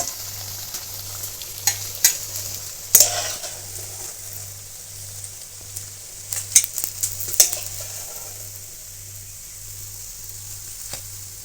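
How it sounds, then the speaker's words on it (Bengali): Batter-coated jackfruit pakoras crackle steadily in deep oil, the constant bubbling hiss punctuated by several metallic taps and scrapes as a spoon moves and lifts the fried pieces. "এঁচোড়ের পকোড়াগুলো ভাজা হয়ে গেছে।"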